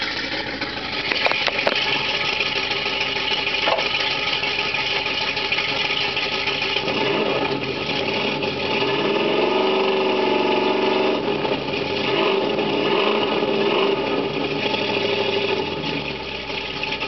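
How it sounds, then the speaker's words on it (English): A 1976 Ford Bronco's 351 Windsor V8, fitted with a 2.5-inch 2-into-1 exhaust and a Magnaflow three-chamber muffler, idles steadily and is revved. The close, continuous engine sound swells and settles midway, with no speech. "I'll go rev it up."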